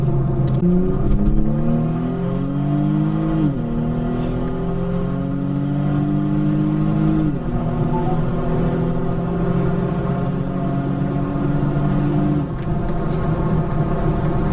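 A stock Kia Stinger GT2 AWD with twin turbos and an exhaust cutout pulls hard through several gears, its engine note rising in long steady sweeps with clear drops at each upshift, loud and close throughout.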